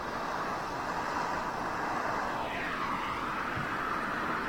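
A China Southern Airbus A330 airliner at London Heathrow Airport gives a steady, moderately distant jet roar with a faint shift in tone as it passes, heard alone.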